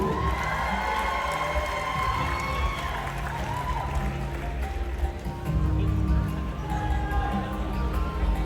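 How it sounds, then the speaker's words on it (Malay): A pageant audience at a Kaamatan Unduk Ngadau finalist round applauds and cheers a district contestant from Kuala Penyu, a loud continuous roar of clapping and shouting from a large crowd filling the hall. "kita berikan tepukan yang gemuruh kepada wakil kita dari daerah Kuala Penyu"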